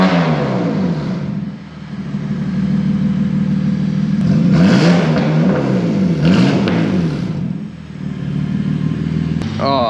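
A BMW M2 Competition with Fi downpipes and no muffler fitted, its engine idling then revving loudly several times in a rough, raspy rumble close by, with rising and falling pitch.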